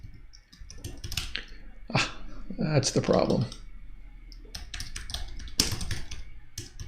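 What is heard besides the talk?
typing on a computer keyboard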